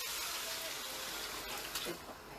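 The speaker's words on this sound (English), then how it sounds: "I'm going to put some water straight in the seasoning" Water pours from a jug into a pot of Caribbean curry chicken seasoning, a steady broadband gush running throughout at moderate level with a brief splashier surge near the end.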